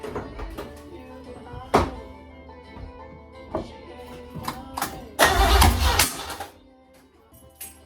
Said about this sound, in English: So I rotated the distributor an excessive amount and see if it starts.